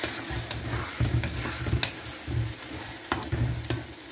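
Filipino guisado dish frying in a pan, with crackling sizzle and the clatter of stirring in irregular bursts at moderate level.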